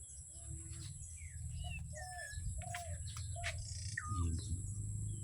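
Several birds chirp and tweet in short, scattered calls over a steady insect drone and low background rumble.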